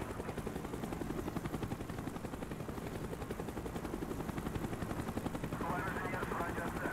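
A helicopter circles in the Call of Duty: Black Ops video game, a steady rapid rotor chop throbbing under muffled gunfire-like bursts at moderate distance, with a brighter wash of noise toward the end.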